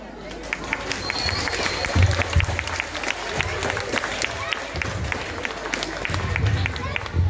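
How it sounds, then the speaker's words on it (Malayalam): An audience at a school annual day applauds after a song, steady dense clapping with some crowd chatter and thumps, sustained for several seconds. "നല്ലൊരു കയ്യടി കൊടുക്കൂ ഋഷിക്ക്"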